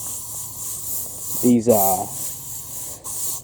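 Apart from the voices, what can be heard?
spraying insect repellent against chiggers and ticks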